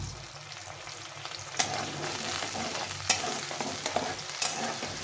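Tomato sautéing in a pan with a little water for a pointed gourd (potol) curry, giving a steady close sizzle with occasional scraping stirs and sharp spoon taps against the pan, no talking.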